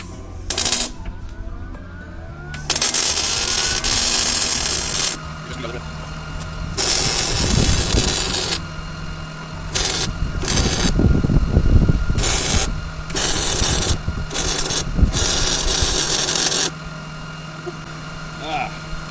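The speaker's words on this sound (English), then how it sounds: "Okay, we'll get this welded up now." Welding over a repair on a cargo trailer comes in loud, harsh crackling bursts of a few seconds each, separated by short quiet gaps, close by.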